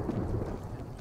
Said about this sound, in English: Oh, that's the rain.